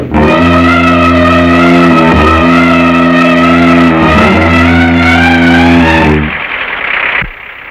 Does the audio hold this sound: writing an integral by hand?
no